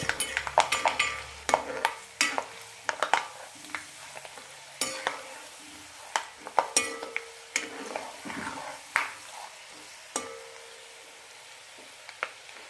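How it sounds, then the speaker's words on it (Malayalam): Peanuts and roasted gram frying in oil for a raw banana snack mix sizzle softly, with repeated sharp crackles and pops and a few spoon taps against the pan, close and irregular. "നിലക്കട പൊട്ടിക്കഴിയുമ്പോൾ പൊട്ടുകടല ഇടാം"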